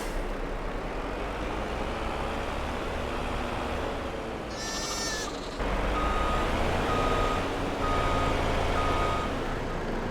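A vehicle, likely a truck, pulls up behind a combine harvester on a farm, with a broadband engine rumble and a run of evenly spaced reversing beeps in the later part of the clip.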